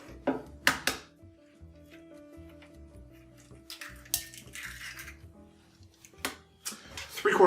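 An egg being cracked for a Smokey Tequila Flip cocktail at a home bar: a few sharp taps and cracks against a hard edge, then soft wet drips and shell clicks, close and fairly quiet.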